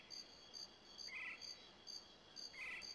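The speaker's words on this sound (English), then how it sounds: "Okay, crickets in the jungle?" Crickets in the jungle level of the video game GoldenEye 007 chirp in a faint, steady pulsing loop, with an occasional higher trilling insect or frog call layered in.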